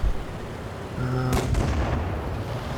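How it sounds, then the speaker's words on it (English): Tank firing a shot in the World of Tanks video game, a single sharp cannon blast with a rumbling tail over steady background engine noise. "takes a shot at one of the red tanks, takes another shot"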